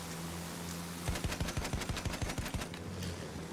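Battlefield 1 video game gunfire: a rapid burst of roughly fifteen sharp, evenly spaced automatic shots lasting about a second and a half, moderately loud over a constant low background rumble.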